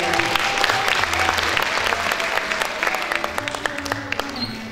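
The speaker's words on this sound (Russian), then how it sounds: "Эти аплодисменты также тебе, Екатерина." Audience applause at a Bollywood-themed dance show, honoring a longtime member of a dance troupe on stage; dense, steady clapping fills the room for several seconds, with a low musical hum underneath.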